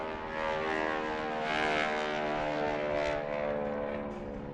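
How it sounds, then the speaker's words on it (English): A P-51 propeller fighter flies past at an airshow in Westfield, its engine drone loud and steady, swelling as it nears and passing overhead without any talk. "a P-51 or something like that."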